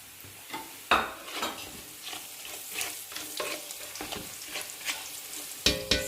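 Whole spices such as cumin, cinnamon, cloves and black cardamom frying in hot oil for chana pulao, a steady close sizzle broken by repeated utensil stirs and scrapes against the pan.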